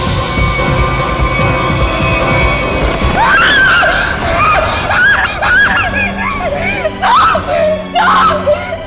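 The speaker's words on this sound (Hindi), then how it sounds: "इतनी जोर से क्यों चिल्ला रही है?" A woman screams loudly in a crime drama scene, a series of shrill, wavering cries that rise and break over a noisy background, with voices underneath.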